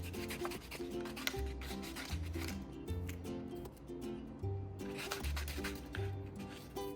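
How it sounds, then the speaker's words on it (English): Fine grit sandpaper rubs along the edges of baked clay earrings in quick, repeated strokes, close and fairly soft beneath steady background music. "just grab a piece of fine grit sandpaper and smooth those down"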